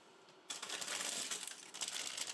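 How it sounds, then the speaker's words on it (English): A plastic bag of Lego Speed Champions pieces crinkles and rustles as it is handled and cut open, close and continuous after a brief quiet start, with no talking. "Here is the second plastic bag. We use scissors in order to open it."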